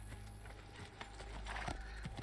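Horse hooves clip-clop in Assassin's Creed 2 as the rider gallops, a quick steady patter of soft thuds that is fairly faint and low in the mix, with no talk over it.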